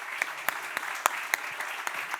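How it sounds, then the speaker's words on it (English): A road safety conference audience applauding the speakers with sparse, distinct claps roughly every quarter second, close and moderately loud, with no talking. "Please give them a big round of applause."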